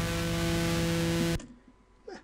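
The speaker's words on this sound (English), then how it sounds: "we want like a heavy rock sound. So let's put it on heavy" Heavy rock amp distortion effect from Ableton Live 9 plays as a dense, loud, buzzing sustained tone for over a second, then cuts off abruptly to quiet room noise.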